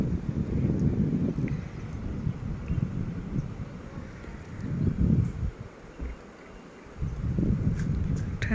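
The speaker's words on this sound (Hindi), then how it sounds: "ठंडी ठंडी हवा चल रही है" Cold wind sweeps through a hillside apple orchard near Manali, buffeting the microphone in rumbling gusts that swell and ease several times, with brief calmer gaps between them.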